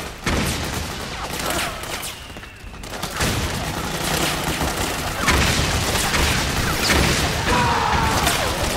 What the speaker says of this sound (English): A lot of explosions in this place.